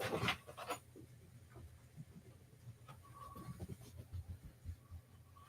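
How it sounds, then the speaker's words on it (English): A dog pants quietly in the background of an indoor room, short breathy bursts repeating irregularly at low level, with a brief louder rustle at the start and faint clicks and tones scattered through. "That's just my crazy dog you hear in the background."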